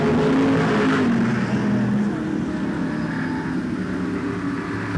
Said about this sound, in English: As the field continues to whiz around the track.